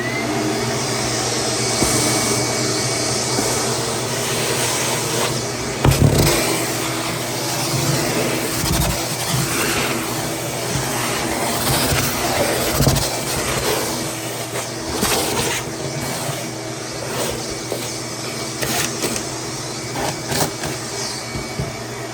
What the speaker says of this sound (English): we're gonna vacuum this top real quick. It's all full of metal shavings that were on the coil.